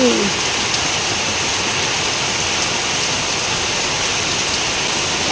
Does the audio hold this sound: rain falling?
yes